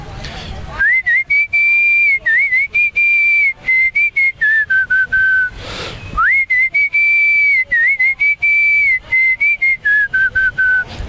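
A man whistles a tune by mouth, loud and close, with long sustained melodic phrases broken by a brief pause midway and quick breaths between notes.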